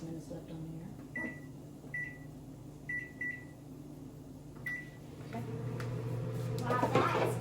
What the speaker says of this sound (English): Open the holes and put it in the microwave.